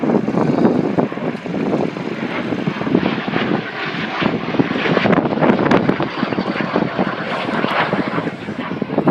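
A Lockheed T-33 Shooting Star jet makes a pass down the show line at an air show, its engine roar loud and steady throughout with buffeting wind noise.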